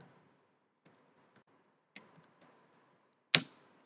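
Sparse keystrokes on a computer keyboard while entering a default value into a database table: a few soft, scattered clicks, then one sharp, louder key strike near the end, close and quiet otherwise, with no talking.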